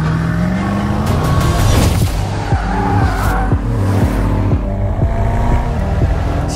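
A black Mercedes on standard Michelin Pilot Sport 4S tires finishing a warm-up lap on a track, the engine droning loudly and shifting pitch while the tires squeal and scrub through corners.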